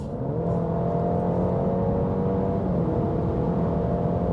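A 2023 Alfa Romeo Giulia Competizione accelerating hard, heard from inside the cabin as a loud, steady engine drone that holds throughout.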